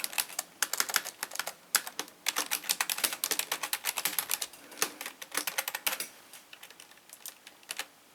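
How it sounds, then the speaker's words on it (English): Fingers type on a computer keyboard at close range, a fast, uneven run of crisp key clicks with short pauses between bursts and no talking. "I'm going to type in Mixerr Reviews number 334"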